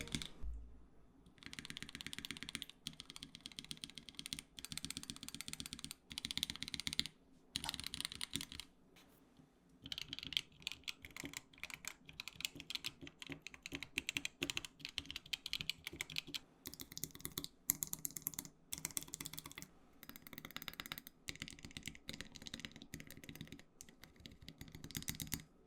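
Keys on a Treasure TYPE-9 Series II macro pad fitted with artisan keycaps are typed on rapidly and close up, giving dense bursts of crisp clicks and clacks with brief pauses between runs.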